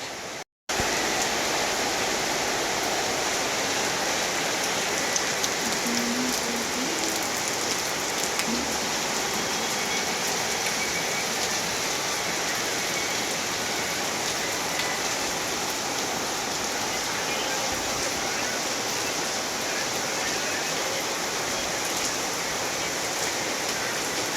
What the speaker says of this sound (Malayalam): അപ്പോൾ മഴ പെയ്യുന്നുണ്ട്